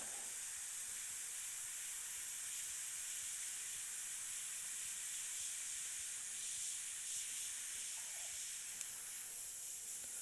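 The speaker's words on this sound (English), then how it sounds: "I'm leaving the paint flowing and just rapidly moving the airbrush in a random pattern." An airbrush sprays paint in a continuous, even high-pitched hiss that stays steady and close for the whole stretch, with no talking.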